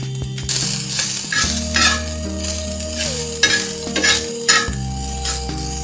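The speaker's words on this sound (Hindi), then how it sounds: "चिकन को हमने अच्छी तरह भून लिया है" Chicken pieces frying with spices in two spoons of oil on a tava, a steady loud sizzle with scraping stirs and a low hum throughout, no talking.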